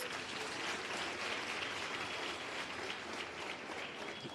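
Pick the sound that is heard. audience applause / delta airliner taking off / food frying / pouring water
audience applause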